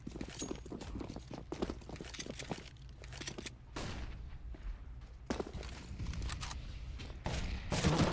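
Rapid bursts of SMG fire ring out during long-range fights in a Counter-Strike: Global Offensive professional match, with repeated clusters of shots and brief pauses between them.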